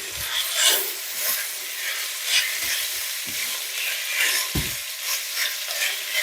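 A savoury mince mixture with parsley is stirred in a pot, producing a steady hissing sizzle punctuated by several soft thumps and scrapes of the spoon, with no voices.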